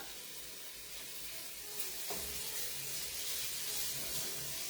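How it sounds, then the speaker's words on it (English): Steady broadband sizzling of chicken frying in a hot skillet, with a brief clatter partway through as the hiss continues evenly and close. "So let's put our chicken in. Let's listen for the sizzle."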